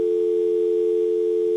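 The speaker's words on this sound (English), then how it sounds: "I can hear a dialing tone now" Telephone line tone heard through a Gigaset DX800A headset, one steady, loud, unbroken pure hum lasting the whole moment with no speech.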